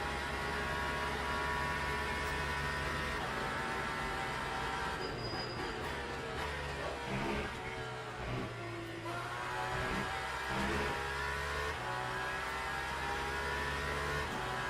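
An Aston Martin Valkyrie hypercar races in a sim racing game, with its engine holding a steady, dense, loud drone throughout and dipping briefly as it shifts or lifts partway through, and no one talking.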